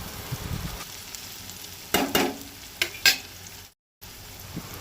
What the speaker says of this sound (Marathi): लायट ब्रावन जायसर तो बरो तळसूंक जाय.